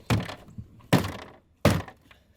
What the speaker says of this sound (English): Now let me put that mag back in there.